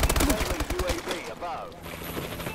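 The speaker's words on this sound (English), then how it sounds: "there's four remote turrets that I see. Yeah. She was just shooting at" Remote anti-personnel turrets firing in Call of Duty Advanced Warfare on the Ascend map, a quick rapid burst of shots at the start that fades into game sounds.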